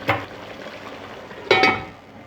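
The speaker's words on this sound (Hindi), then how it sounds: "टमाटर को भूनते हुए 4 से 5 मिनट हो गए" Tomato masala fries in a pan during chicken-with-peas cooking, two sharp stirring scrapes and clinks rising over a low, steady sizzle, close and fairly loud.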